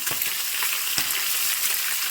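Steady crackling sizzle of snapper fish frying in hot oil in a pan, dense and continuous with small pops throughout.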